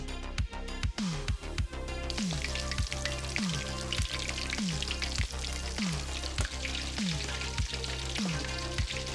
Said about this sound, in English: We're gonna go one at a time and just delicately place our eggs into the grease